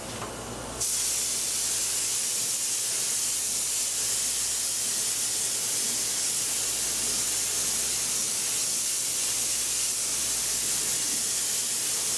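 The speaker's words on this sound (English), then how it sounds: "my high volume, low pressure sprayer" A high volume low pressure paint sprayer fires a test spray for model painting: a steady, loud airy hiss begins abruptly after a brief quiet moment and continues without a break to the end.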